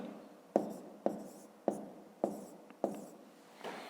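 A pen writes on paper in five or six quick, separate strokes, each a sharp scratch that fades, close and fairly quiet.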